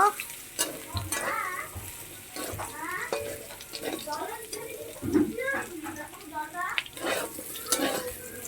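Potatoes frying in a pan, a sizzling hiss with stirring clatter running throughout, while someone talks over it nearly continuously.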